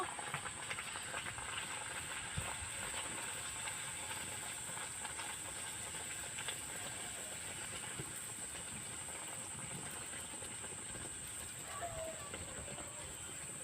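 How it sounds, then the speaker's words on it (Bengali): Potato-stuffed puris, with fennel seed in the dough, deep-frying in hot oil, giving a steady, even hiss and fine bubbling that runs throughout with no voices. "আমি তেলের মধ্যে একটা একটা করে ছেড়ে দেবো ছেড়ে এরকমভাবে ভেজে নেব"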